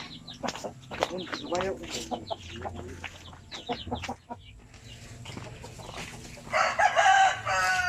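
A Basilan breed rooster on a poultry breeding farm crows, with scattered clucks and fowl calls around it, close and fairly clear, while people speak now and then.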